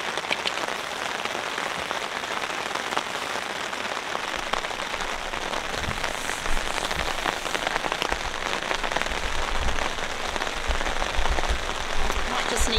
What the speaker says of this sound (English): That is really heavy, consistent rain.